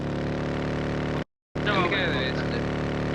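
A video game motorbike revs with a droning engine on icy terrain in a frosty winter map. The engine cuts out briefly, then returns with a rising whine while players talk over it.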